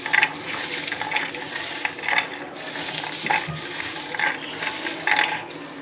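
Peeled garlic cloves being put into warm water to soak: close, repeated sloshing and splashing with small clinks against a container, in irregular bursts and with no speech.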